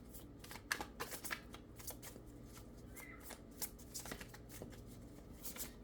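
Tarot cards are shuffled by hand in quick, soft riffling bursts, a fairly faint, irregular flutter of slapping card edges with no talk.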